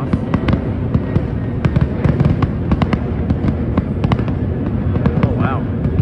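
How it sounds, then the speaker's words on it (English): Fireworks go off at night in Miami, Florida, as a dense run of loud, sharp bangs and crackles over a constant rumble of distant bursts, with voices faintly under the noise. "watching some of the fireworks that are apparently going off"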